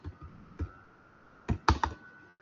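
Keys on a computer keyboard are struck during Python coding, with a few isolated taps followed by a quick cluster of sharp, close clicks and no talking.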